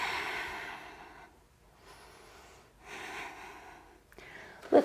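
Slow, soft breathing during a yoga stretch in a hip extension flow, a few quiet inhales and exhales with a sharper breath at the end, with no talk.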